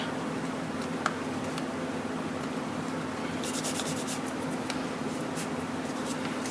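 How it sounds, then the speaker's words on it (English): A bone folder rubs down a fold on a freestanding teepee-shaped paper card, producing soft, close dry scraping strokes with a brief cluster of brisker rubs partway through. "I'll take my bone folder, oops, and just kind of rub it in here and make sure that it's down all the way"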